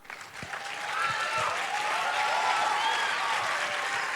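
Audience applause after a motivational talk at a university event, a broad wash of clapping that swells after the first second and holds steady, with crowd noise mixed in.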